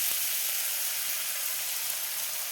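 Chopped tomato frying in a hot pan for an egg and potato curry, with a steady close sizzling hiss throughout and no talk.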